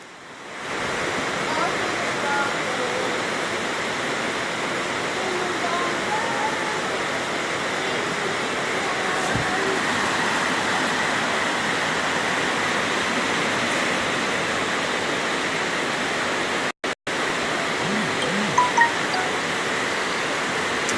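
Floodwater rushing through a flooded Sunnyside housing scheme, a steady, broad roar of moving water that holds at a constant level throughout, with only a brief dropout near the end.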